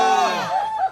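A crowd at the 598th Seongju candlelight rally against the THAAD deployment lets out one brief, loud collective shout after a countdown, with a prominent raised voice at the front.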